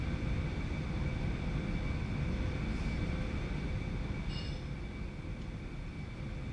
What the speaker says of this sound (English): I can start to hear a little bit of the engine.